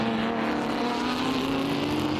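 A yellow Corvette race car at Circuit of the Americas, vintage SVRA racing in misty conditions, drones past with a steady engine whine that rises slightly in pitch as it goes by.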